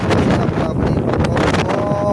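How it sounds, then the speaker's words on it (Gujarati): Strong wind buffets the microphone in a loud, constant rumble, with the wash of sea waves blended underneath. "બહુ પવન છે અને મોજા બહુ આવે"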